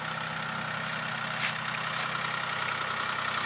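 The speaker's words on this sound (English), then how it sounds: "Right now Eric is on the tractor and he's going to scrape out the mulch." A tractor engine idles and runs steadily during a raised bed renovation while mulch is scraped out, a continuous close, loud rumble with no talk.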